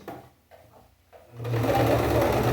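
A sewing machine starts after a quiet moment with soft speech and then stitches fast and steadily, loud and close, with a backstitch run to lock the seam.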